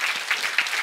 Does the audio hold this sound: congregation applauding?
yes